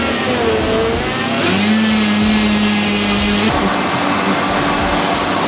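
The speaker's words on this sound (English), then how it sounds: "What we do when the blender is blending." A JR Touch blender running its soup function on raw ingredients, a loud continuous motor whir whose pitch shifts and climbs partway through, with no talking.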